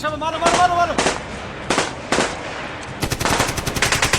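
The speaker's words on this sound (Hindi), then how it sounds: "डबोरी टॉप के ऊपर से हमारे ऊपर काफ़ी ज़्यादा फायर आ रहा है।" Heavy gunfire in a battle scene from a military drama, with loud, close bursts of machine-gun fire that come in separate volleys, then a sustained rapid burst toward the end.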